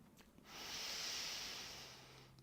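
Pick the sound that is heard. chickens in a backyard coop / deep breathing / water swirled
deep breathing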